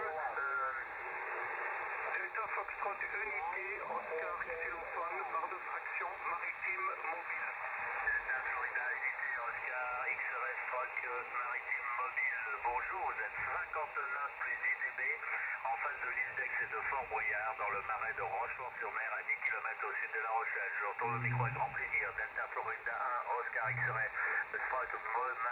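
A Motorola Micom 2R HF radio receives on the 20m band, giving a continuous hissy, band-limited transmission with a faint voice in the noise throughout, with a couple of low knocks near the end.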